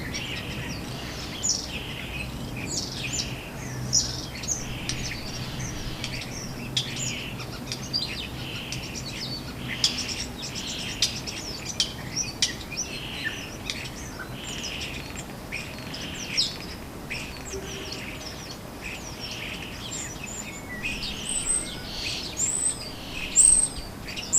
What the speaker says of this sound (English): The starling begins its chattering calls.